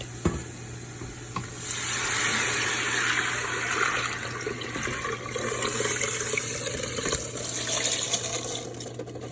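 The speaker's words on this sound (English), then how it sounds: "And now I'm adding whole urad along with the water in the pot." Whole urad lentils and water poured into a cooking pot for Punjabi-style mash, a steady close splashing and sizzling pour that swells and continues with a low hum underneath, no voices.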